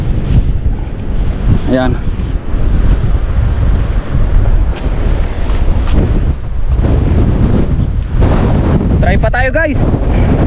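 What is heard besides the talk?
strong wind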